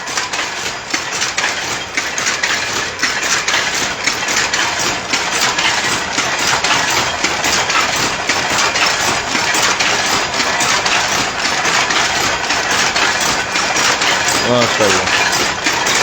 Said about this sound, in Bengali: মেশিনটা চালাচ্ছে শুধু দেখুন হ্যাঁ, হ্যাঁ। যা তাঁতের শাড়ি তৈরি হচ্ছে